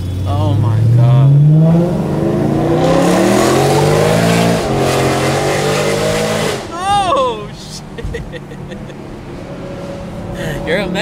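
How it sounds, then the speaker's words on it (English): A loud BMW E92 M3 revs hard from inside the car, its engine climbing and holding high before easing off, with excited voices talking over it toward the end. "your car is stupid loud, bro. It's so loud, bro."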